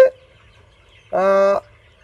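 A single drawn-out call from a 43-day-old Sonali chicken sounds nearby on a poultry farm, preceded by a brief faint noise, in an otherwise quiet space.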